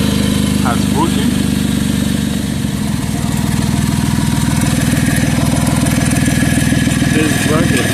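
Loud, steady rumbling drone from a car exhaust whose welded support bracket has broken loose, running continuously at close range with no letup.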